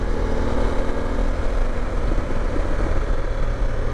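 A BMW GS motorbike engine held at open throttle with revs climbing, a steady loud broadband drone mixed with wind rush while riding, continuous and unbroken.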